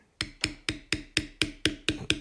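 A leather beveler is struck by a mallet in a steady rhythm, nine sharp, evenly spaced taps up close while tooling a leather pattern.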